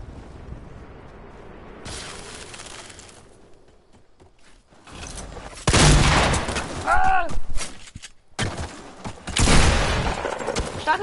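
Shotgun blasts from a video game sound in sharp bursts, with several loud booming shots clustered in the second half and a voice speaking over the action.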